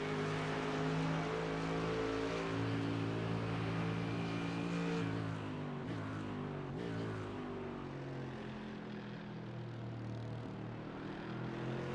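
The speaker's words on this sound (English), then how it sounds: "That cup car behind is sticking with us by the sounds of it." A cup race car's engine in a racing video game drones steadily with shifting harmonic tones, a continuous sustained whine that dips slightly partway through, with no talking.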